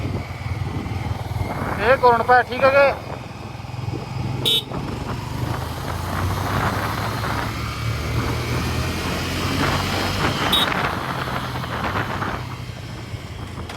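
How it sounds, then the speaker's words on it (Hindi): A Bajaj Pulsar 125 and a Honda Hornet CB125 accelerate in third gear from low speed. Their engines drone amid road traffic, with brief horn toots near the start and a voice speaking briefly. "तो चलिए करते हैं दोनों बाइकों का इन गियर एक्सेलरेशन टेस्ट।"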